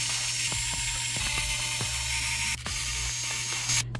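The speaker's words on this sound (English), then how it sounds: "you have to remove the screws that are holding the battery" A small screwdriver turns the battery screws inside a Lenovo ThinkPad X1 Yoga laptop, making faint repeated ratcheting clicks over a steady hum. A sharp tap comes near the end.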